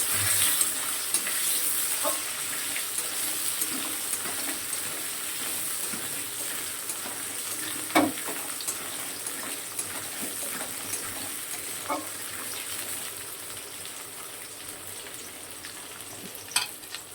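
Chopped onion and long-cut potato strips fry in hot oil in a pan, making a soft continuous sizzle with occasional stirring clinks and scrapes, nearby and fairly quiet, no talking.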